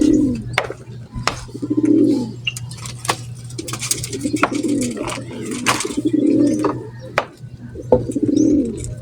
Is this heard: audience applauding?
no